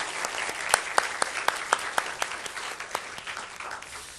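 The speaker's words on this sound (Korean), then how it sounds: "우리 감사의 박수하겠습니다" A church congregation applauds during a Sunday service, a fairly soft, even wash of many hands clapping heard from a distance for several seconds.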